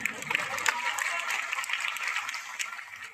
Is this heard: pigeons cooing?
no